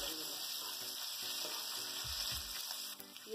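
Cumin seeds sizzle in hot oil for baingan bharta, a steady, quiet crackling hiss with a few soft clinks of stirring, heard close.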